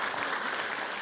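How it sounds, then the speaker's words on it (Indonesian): A studio audience applauding a veteran on a television health quiz show, a dense, steady wash of clapping that stays loud and even throughout the short stretch. "Tepuk tangan buat veteran."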